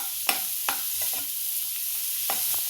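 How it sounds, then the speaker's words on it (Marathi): Garlic and ginger sautéing in butter with onion in a pan: a bright continuous sizzle broken by a few sharp stirring scrapes, close and loud, no talking. "लसूण आलं आता हे सगळ्याला एकत्र आपण छान परतून घेऊया"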